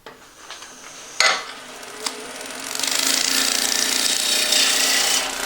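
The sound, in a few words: roughing gouge cutting wood on a lathe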